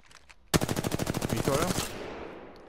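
Rapid burst of R-301 rifle fire in Apex Legends, about a dozen evenly spaced shots in quick succession, loud and close, then a fading tail with no talk.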